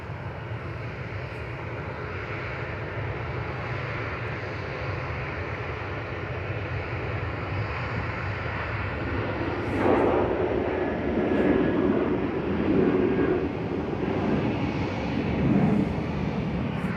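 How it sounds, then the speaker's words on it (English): A Ryanair jet bound for Gothenburg departs runway 23 left at Manchester Airport. A steady, fairly distant engine roar swells gradually, with a few faint clicks on top and no talk. "Here we go, first departure of the day on 23 left. This is Ryanair to Gothenburg with flight 3088"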